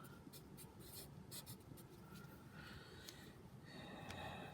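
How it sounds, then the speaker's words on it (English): A pen writes out the SOHCAHTOA mnemonic for a trigonometry lesson. Soft scratchy strokes come in short bursts and a steadier run over a faint background hiss, with no talking. "we'll write the handy mnemonic on the top"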